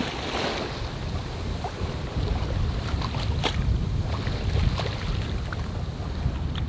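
A sailing yacht under way at sea between Martinique and Guadeloupe, with steady wind rushing over the microphone, waves slapping and washing along the hull, and occasional sharp splashes, close and loud.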